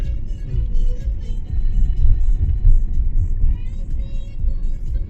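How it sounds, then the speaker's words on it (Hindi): A vehicle approaches on a foggy mountain road in Arunachal Pradesh, its engine a steady loud low rumble that swells and holds throughout, with faint higher tones and no clear talking. "गाड़ी आ रहा है।"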